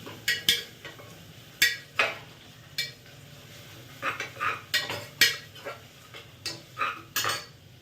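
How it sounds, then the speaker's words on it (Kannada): A utensil stirs and fries ingredients in a metal pan for fenugreek pulao, giving a series of sharp, close clinks and scrapes in an uneven rhythm, with only faint sizzling beneath and no talking. "ಇದನ್ನು ಹಾಕೊಂಡು ಚೆನ್ನಾಗಿ ಸ್ವಲ್ಪ ಹಸಿ ವಾಸನೆ ಹೋಗಿ ಫ್ರೈ ಮಾಡ್ಕೋಬೇಕು."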